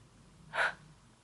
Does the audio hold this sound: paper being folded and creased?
no